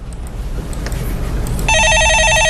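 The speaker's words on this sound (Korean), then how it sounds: "예, 전화 받아보겠습니다" A telephone rings on a broadcast stock-market call-in show, its repeated electronic trill starting abruptly partway through over a steady room hum.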